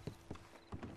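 A horse's hooves clip-clop faintly in Red Dead Redemption 2, three or four distinct thuds spaced irregularly over about a second, with no talk.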